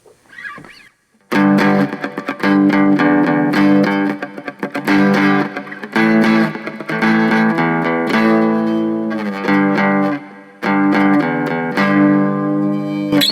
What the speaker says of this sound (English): And let's switch over to the crunch.